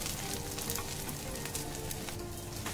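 Potato patties (tikki) frying in a pan, a steady close sizzle and crackle of hot oil running evenly throughout with no talking.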